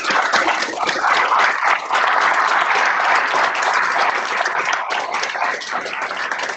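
Sustained applause rises for guest speaker Fred Biletnikoff at a Hall of Fame event, a thick, continuous clatter of many hands that stays loud throughout, slightly muffled and band-limited as if over a call.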